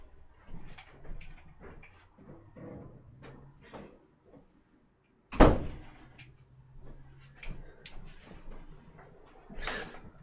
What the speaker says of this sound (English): I gotta close this door.